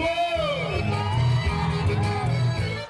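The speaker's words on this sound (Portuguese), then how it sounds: "Cadê o grito do povo?" A rodeo crowd in an arena yells, whoops and cheers for a rider from Costa Rica, a loud continuous roar of many voices with individual shouts rising out of it.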